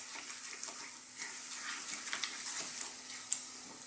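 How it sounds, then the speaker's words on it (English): Fish curry ingredients, including ginger, fry gently in a pan over low heat, giving a faint, continuous sizzle broken by soft scraping and clinks from stirring. "So let's just cook these guys together, stirring often"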